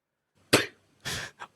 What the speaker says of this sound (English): He's got a bit of a chesty cough.